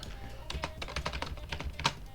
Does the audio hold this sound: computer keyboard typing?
yes